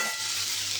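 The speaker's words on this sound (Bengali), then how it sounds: "এটা ভালো করে ভেজে নেব" Pointed gourd fries in a pan with a steady, close sizzle over a brief moment, with no voices.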